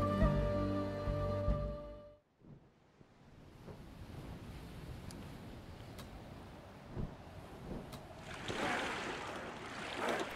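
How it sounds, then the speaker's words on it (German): Calm sea waves lapping around the Viking longship Dreki as it sails slowly toward Orkneia in Expeditions: Viking, a soft steady wash with light wind after a held musical tone fades out, the surf gradually growing brighter. "Die Wellen sind ruhig und die Dreki kommt nur langsam voran."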